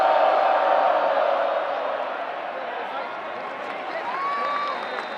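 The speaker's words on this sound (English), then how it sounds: "there are enough Oregon State fans here, you can hear them cheering a little bit" Oregon State fans cheer in the stands at an Oregon vs Oregon State college football rivalry game. A broad, distant crowd roar starts loud, eases down, then swells slightly again.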